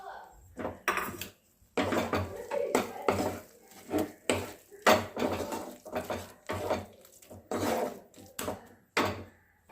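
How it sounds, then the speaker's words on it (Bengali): Coriander leaves are mixed into mashed eggplant baigan bharta in a pan on a gas stove: rhythmic, close scraping and knocking of a spatula against the pan in uneven bursts. "এবার সবশেষে আমরা দিয়ে দিচ্ছি ধনে পাতা এটাকে দিয়েই ভালো করে মিশিয়ে দিচ্ছি"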